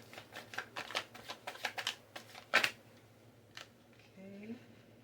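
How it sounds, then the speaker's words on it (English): Tarot cards being shuffled and pulled, a series of quick papery riffles and snaps close up, then a short pause and a brief voice at the end. "Alright, pull a few more cards."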